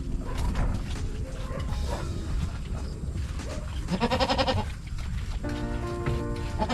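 A newborn goat, born premature, bleats in a few short wavering cries over steady rain-like background noise, close to the listener.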